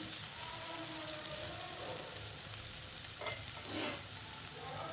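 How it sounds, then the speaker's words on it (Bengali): Onions fry in a pan with a steady, quiet sizzle throughout, joined briefly by a couple of soft stirring scrapes near the end. "আমার পেঁয়াজটা ভাজা হয়ে গেছে"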